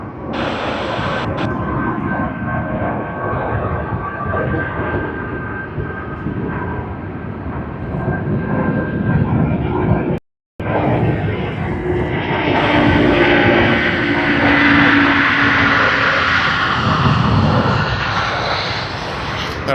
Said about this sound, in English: That was a nice one, Garuda Indonesia A330-300.